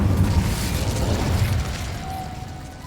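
An Incendio fire spell goes off in Hogwarts Legacy, a heavy low whooshing burst that rumbles and fades over a few seconds, loud and close with no speech over it.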